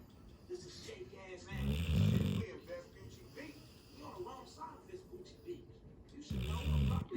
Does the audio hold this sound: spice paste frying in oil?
no